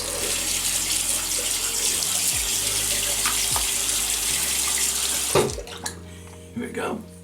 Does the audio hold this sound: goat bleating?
no